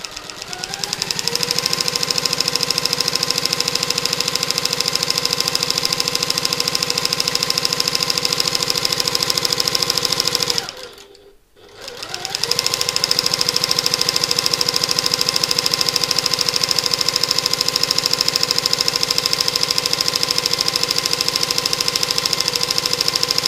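A sewing machine stitches around a loop on the edge of a satchel, a steady fast mechanical whir that runs continuously, stops briefly in the middle, then resumes at the same pace.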